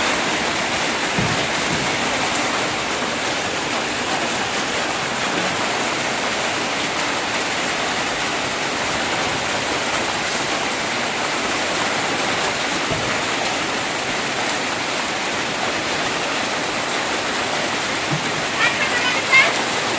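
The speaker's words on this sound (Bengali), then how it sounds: "বৃষ্টি আর জোরে আসলো" Heavy rain pours down outside a home, a loud, unbroken rushing wash of water lasting twenty seconds, with voices faintly present beneath it.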